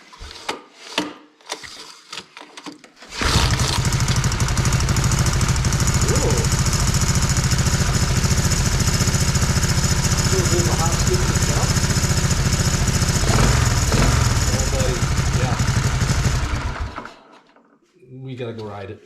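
A Honda 185S three-wheeler engine fires and idles loud and close after its ignition timing was advanced, holding a steady rough putter for about fourteen seconds. Brief talk comes before it and after it cuts off.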